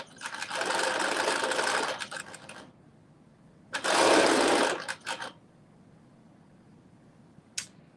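A sewing machine runs a basting stitch along the seam allowance of a maxi dress, in two steady bursts of about two and a half and one and a half seconds separated by a pause, with a faint click near the end.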